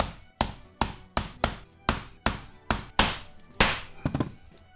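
Hole punch, 1/8 inch, struck through leather for a pouch: about ten sharp, close thunking taps at a steady rhythm, each with a bright attack and short ring, with a quick double strike near the end.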